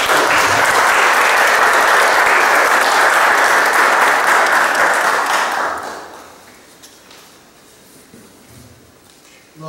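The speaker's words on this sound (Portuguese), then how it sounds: "Então, uma salva de palmas." A church congregation claps together during Mass, a loud, dense round of applause lasting several seconds before stopping abruptly into quiet room tone.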